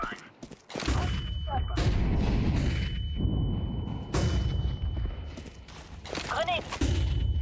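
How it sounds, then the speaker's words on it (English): A flashbang thrown during a Counter-Strike 2 match, heard as a sequence of loud, close blasts and thuds over dense game action noise, with a voice briefly speaking. "Throwing flashbang."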